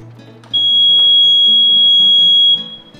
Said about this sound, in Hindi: बटन दबाते ही लाल बत्ती जलेगी और बीप की आवाज आएगी